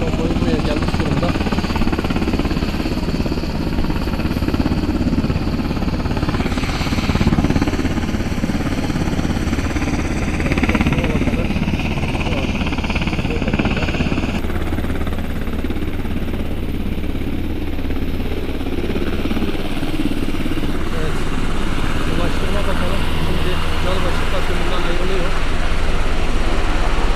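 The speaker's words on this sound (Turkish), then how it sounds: "Ulaştırma Bakanı yol başından helikopterle ayrılıyor." A helicopter carrying Turkey's Transport Minister lifts off at a roadside after the Gölbaşı earthquake, a loud continuous engine and rotor roar lasting throughout, with people talking over it.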